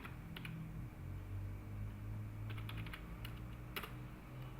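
Keys clack on a computer keyboard as the ipconfig release command is typed, several bursts of quiet, close taps over a low steady hum, with no speech.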